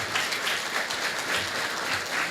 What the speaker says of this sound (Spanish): Un aplauso para ellos de bienvenida.